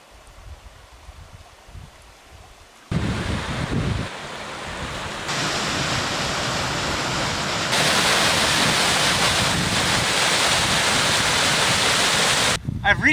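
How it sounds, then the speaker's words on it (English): A canyon creek in Canyonlands runs high with rising floodwater, a loud broadband rush that grows stronger in steps, heavy and continuous like surf with wind noise on the microphone. "Looks like the creek is getting ready to flood."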